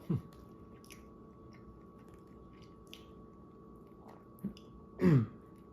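Someone chews a bite of corned beef banh mi with a butter sauce, giving a few soft, close, wet chewing and biting sounds spaced over several seconds in an otherwise quiet room.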